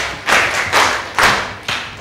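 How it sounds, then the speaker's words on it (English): Classroom of pupils giving big claps in unison, four heavy group claps at a steady measured pace, loud and close with no talking between them. "Class, let's give him 5 big claps."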